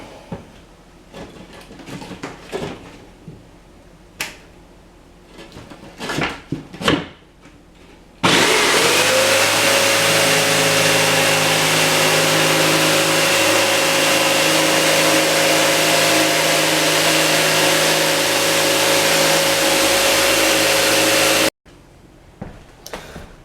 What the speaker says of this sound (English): Drywall can also be cut with a jigsaw.